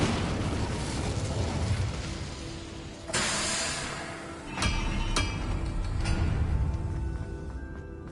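Incendio fire spell cast in Hogwarts Legacy: a roaring, hissing blast that flares suddenly, followed by several sharp crackling bursts and a lingering rumble.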